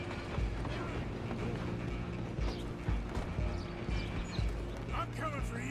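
Horse hooves clip-clopping in the video game Red Dead Redemption 2, a rhythmic trotting patter with creaks underneath, joined by voices talking over it.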